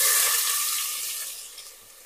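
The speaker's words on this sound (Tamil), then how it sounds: "மட்டனுக்கு பார்த்தீங்கன்னா வெங்காயம் சேர்த்துக்கிறேங்க." Onions sizzling in hot oil with fennel seeds for mutton thokku, a steady bright hiss that starts loud and slowly fades a little over two seconds, with no voices.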